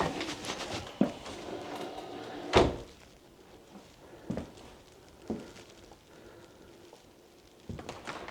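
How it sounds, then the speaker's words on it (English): An old, non-squeaky door in an abandoned building swings on its hinge, giving several hollow knocks and thuds spread across the clip, one sharper and louder, with a quiet, roomy background and no talk. "That hinge still works."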